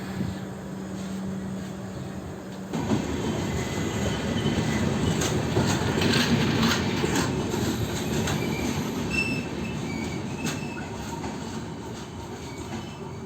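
A train rolls through Anjani railway station in the Konkan, arriving abruptly loud after a quiet start, then a sustained rumble of wagons with wheel squeals and rhythmic clatter close by.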